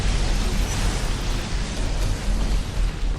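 Continuous rumbling explosive roar from grenade blasts in a PS3 video game, a dense, sustained wash of booms with no clear gaps, loud and steady throughout.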